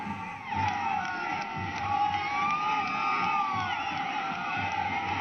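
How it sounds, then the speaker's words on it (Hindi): A large crowd cheers and shouts along the route of Prime Minister Modi's road show in Kochi, a dense continuous roar with whoops and yells rising and falling, steady and fairly loud throughout. "ये देखिए बड़ी संख्या में लोग किस तरह से उल्लसित हैं, प्रसन्नचित्त हैं, प्रफुल्लित हैं"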